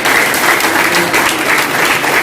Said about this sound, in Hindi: एसके सर एक बार सर के लिए भी जोरदार ताली।